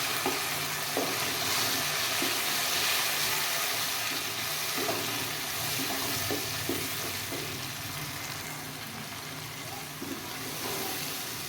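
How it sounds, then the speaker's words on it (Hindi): Tomato paste fries in a pan with browned onions, giving a steady, dense sizzle with occasional stirring scrapes, close and continuous throughout. "अब इसमें ऐड करेंगे टमाटर का पेस्ट। इसको भी अच्छी तरह भून लेंगे।"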